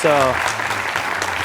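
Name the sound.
applause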